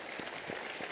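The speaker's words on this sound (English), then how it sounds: "Just give yourself a clap tonight." Debate audience clapping, a brief burst of applause lasting about a second with a few distinct claps standing out from the wash.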